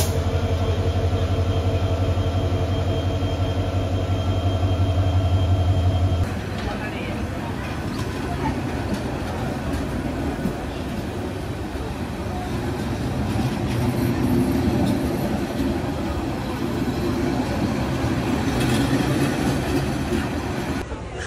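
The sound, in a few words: Korotoa Express train departing station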